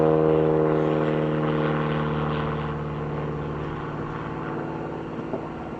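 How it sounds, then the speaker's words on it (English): A propeller airplane drones overhead, a steady low engine hum with a harmonic whine that is loudest at first and slowly fades as it passes, heard alone without speech. "Sorry about the plane."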